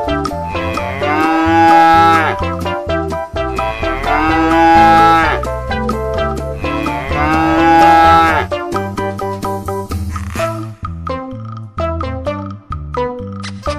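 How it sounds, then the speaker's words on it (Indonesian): Long-horned cattle being loaded onto a truck give three long, loud, drawn-out moos in steady succession, followed by quieter scattered shuffling and knocking. "ada sapi tanduk panjang"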